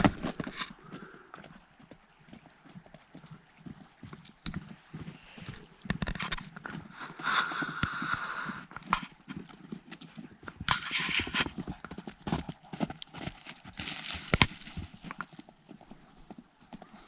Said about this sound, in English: That was 4 completely wild horses, and they're still up here ripping around, coming for a drink of water.